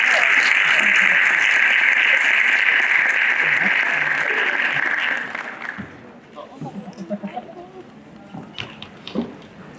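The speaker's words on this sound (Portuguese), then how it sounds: "Peço palmas para Suzana da Hora Macedo." Audience applause for a speaker at a regional education, science and technology forum round table, dense clapping for about five seconds that thins out and stops, leaving scattered faint sounds.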